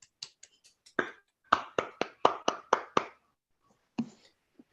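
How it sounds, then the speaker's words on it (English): A few people clap over an online meditation call, sparse separate claps with a brief quicker burst in the middle, then a couple of stray claps. "Let's clap for our meditation."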